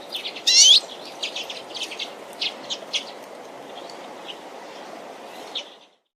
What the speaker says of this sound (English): Redpoll.